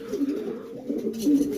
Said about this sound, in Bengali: এই হাড়িটা হলো মাদি আর এটা হলো নর ডাকতেছে